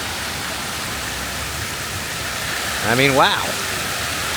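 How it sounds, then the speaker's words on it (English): Fountain water spouts from the mouth of a turtle statue in Sydney, a steady rushing splash close by, briefly overlaid by a voice. "A little turtle spitting out water out of his mouth and all the corners here."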